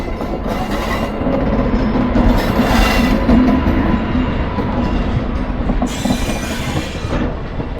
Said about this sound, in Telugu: స్టేషన్ నుంచి ఒక ట్రైన్ అయితే ఎగ్జిట్ అవుతుంది.